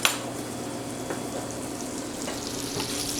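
Diced ham browns in a soup pot, giving a steady, close sizzle and crackle that holds evenly throughout, with no voices.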